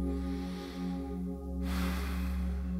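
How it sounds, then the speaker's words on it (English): During a yoga camel pose, a close, audible deep breath: a long drawn inhale that swells into a louder, airy rush of breath near the end, over a steady low background hum. "Take another deep breath."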